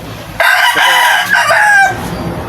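A small backyard rooster crows once, loud and close, a single drawn-out cock-a-doodle-doo lasting about a second and a half with no talk over it.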